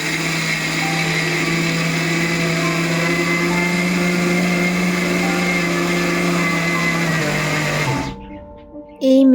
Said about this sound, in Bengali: সব পুজোর কাজটা সেরে আমি চলে এলাম এই যে চাল গুঁড়ো করতে মিক্সিতে